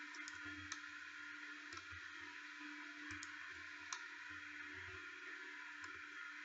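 A computer mouse clicks sharply a handful of times at irregular intervals, quiet and close over a steady background hum, with no speech.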